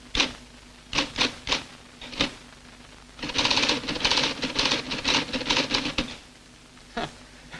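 A 1963 timesharing computer terminal typing, bursts of rapid mechanical key strikes and clatter in uneven groups, close and fairly loud, with short pauses between runs.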